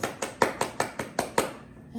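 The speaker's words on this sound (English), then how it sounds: "Just a round of applause for Vegas, everybody." A small comedy-show audience clapping in unison, about seven evenly spaced, fairly close claps in a steady rhythm, then a brief pause.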